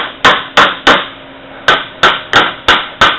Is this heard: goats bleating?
no